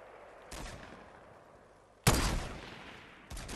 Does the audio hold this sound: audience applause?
no